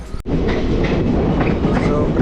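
A Kacheguda to Medak passenger DEMU train rolls along the tracks just after leaving the station, a loud, continuous rumble and rattle of wheels and carriages heard from on board, following a brief cut at the start.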